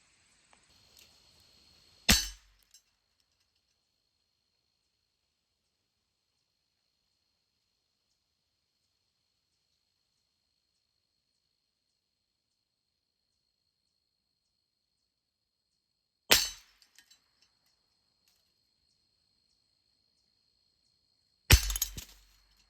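Three sharp .22LR rifle shots at a padlock, spaced far apart across long silence, each a sudden loud crack with a brief ringing tail.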